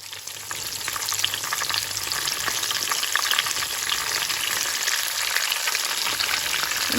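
Freshly foraged wild mushrooms frying in a pan of hot oil: a dense, steady crackling sizzle from start to finish, close and unbroken, with no voices over it.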